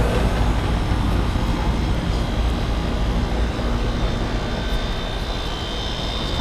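A Goodman residential heat pump runs noisily outdoors, a loud, steady broadband roar and rumble of the fan and compressor that continues without a break.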